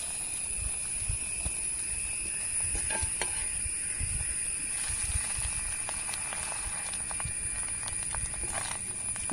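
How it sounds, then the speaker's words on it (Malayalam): Egg-dipped bread frying in a pan gives a steady, close sizzle with a soft crackle and a few light scrapes of turning, with no talking. "ബാക്കിയുള്ള ബ്രെഡ് കൂടി ആ മുട്ടിയിൽ ഇങ്ങനെ മുക്കിക്കാണ്ട് അങ്ങോട്ടും ഇങ്ങോട്ടും ആക്കി പൊരിച്ചെടുക്കുക"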